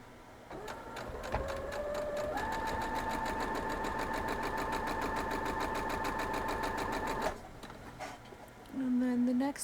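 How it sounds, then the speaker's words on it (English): A sewing machine stitches steadily at a fast, even rhythm, pausing briefly near the end before a short louder burst. "We're going to the sewing machine."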